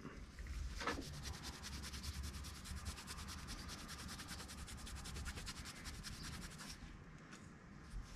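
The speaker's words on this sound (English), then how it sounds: "See if I can just polish this up." An old fishing pole part is rubbed by hand with polish and a cloth, a faint, steady scrubbing and rubbing that stays close and quiet throughout.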